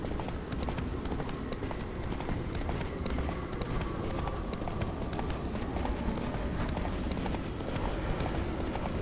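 Horse galloping in The Witcher 3 video game, a fast continuous clip-clop of hooves at a steady rhythm over constant rushing noise, loud and close throughout.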